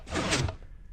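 A Minecraft redstone door in a combination lock build slides open in the video game, a single short mechanical whoosh lasting about half a second, moderately loud, then fading.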